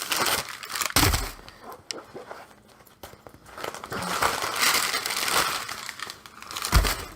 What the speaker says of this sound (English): Let's take out the paper that's in there.